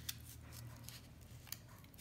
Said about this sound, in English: remember, turn your paper, not your scissors.